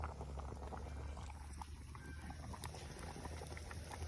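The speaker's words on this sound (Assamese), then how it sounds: "এতিয়া উতলি আছে" Water boiling steadily in a pot, a continuous bubbling rumble with scattered pops and gurgles, fairly close and even throughout.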